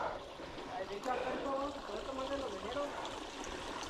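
Clear water in a mountain stream along a shaded wooded trail flows and trickles in a soft continuous babble, faint and steady, with light background noise.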